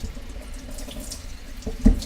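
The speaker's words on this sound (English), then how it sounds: "I drain them and rinse them in water" Tap water runs steadily over drained canned asparagus being rinsed for a casserole, a continuous close splashing with a brief louder gush near the end and no talk.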